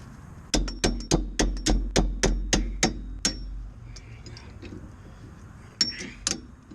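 A hammer strikes the rear brake rotor of a 2007-2013 Acura MDX SH-AWD in a steady run of about ten sharp metallic taps, close and loud, followed by a pause and two more isolated knocks.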